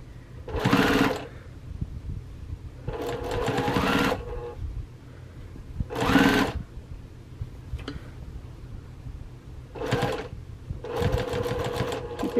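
A sewing machine stitches down quilt binding in several bursts of rapid, whirring mechanical chatter, each lasting about a second, separated by pauses with low background hum.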